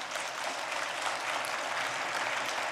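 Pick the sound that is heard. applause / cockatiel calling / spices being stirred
applause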